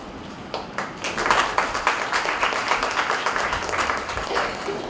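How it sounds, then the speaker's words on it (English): A warm round of applause welcoming a speaker at a pharmacy conference hall, beginning with a few scattered claps before swelling into steady, fairly close clapping from a modest audience. "Please join me in welcoming Mr. Amit Patil with a warm round of applause."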